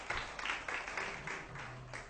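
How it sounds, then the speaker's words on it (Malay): Audience applause, a dense continuous wash of clapping with rhythmic swells, steady and fairly distant, with no talk over it. "Satu tepukan yang gemuruh kepada semangat angsa undan ini."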